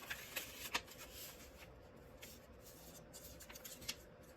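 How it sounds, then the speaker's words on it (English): Origami paper rustles and creases with soft, close scraping and a few sharper crinkles spread across the stretch, faint and without any talking. "you fold it all the way down here."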